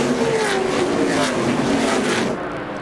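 Stock cars from the 2002 NASCAR Busch North Series roar through turn one at Watkins Glen, slowing for the corner; a loud, close engine drone with falling pitch as the field streams past.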